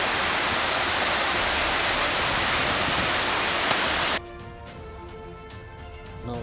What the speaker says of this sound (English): These are the magnificent Hebbe Falls.